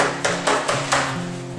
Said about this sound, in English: Maybe hearing protection is not that important with this hammering, it's not that loud and not very annoying or anything